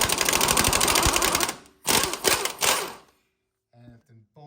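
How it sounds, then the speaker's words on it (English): An impact gun fitted with a socket hammers at a frozen front strut bolt on a 2005 Ford F150 2WD, giving two loud, close rattling bursts before it stops and someone speaks briefly. "I'll put my impact on there, my socket, nothing on the end of the bolt,"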